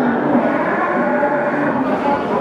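Cattle low faintly beneath a dense, continuous murmur of the crowded Wirosari cattle market in Grobogan, Central Java, with no single call standing out clearly.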